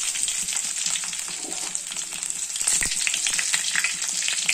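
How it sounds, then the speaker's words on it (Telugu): Mustard seeds, curry leaves and garlic fry in hot oil, a loud close crackling sizzle with stirring scrapes and a sharp burst near the middle, rising slightly toward the end. "ఆయిల్ పోసుకోవాలి, ఆవాలు వేసుకోవాలి. ఆవాలు వేసుకున్న తర్వాత కరివేపాకు వేసుకోవాలి."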